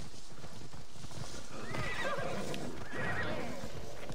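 Horses whinny and neigh with the clip-clop of hooves as mounted guards gallop in the video game Assassin's Creed Odyssey, fairly close and continuous over the whole span.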